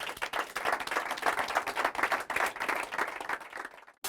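A church congregation breaks into sustained applause and clapping to acclaim Jesus, a dense, steady wash of hands lasting several seconds before cutting off abruptly at the end.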